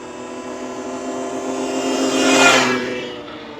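RFN SX-E15 Plus electric dirt bike climbing a hill, its motor whine rising to a loud peak as it passes close by, then fading; no talking.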